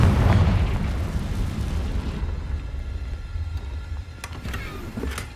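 A Confringo fire spell detonates in the video game Hogwarts Legacy, a loud booming explosion with a rumbling low-end tail that fades over several seconds, with no one speaking.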